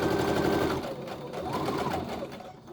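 A sewing machine runs in steady bursts, stitching a fabric medical face mask from point to end, with a brief pause and restart midway; close and continuous.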